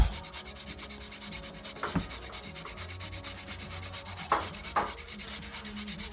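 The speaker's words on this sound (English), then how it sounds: "here I have some black truffle, which I'm going to go ahead and grate right on top." Black truffle grated by hand over a dish of mussels in white cream sauce with pasta, giving a soft continuous rasping scrape with a few sharper strokes, close and steady with no talking.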